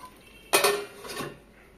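A lid set onto a pan of spicy green bean and potato curry cooking on low flame, giving one loud, close metallic clatter with a short ringing rattle, then a softer second clink as it settles.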